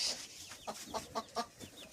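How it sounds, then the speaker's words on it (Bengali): A hen in a village coop clucks while laying eggs, giving about five short, rhythmic clucks at moderate distance over a soft background, with no speech. "হ্যাঁ, মুরগি ডিম পাড়ছে, দেখি কয়টা ডিম পাড়ছে।"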